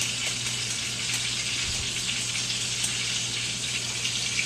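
A tap runs steadily for handwashing, giving a continuous close gush of water with faint splashing and no voices.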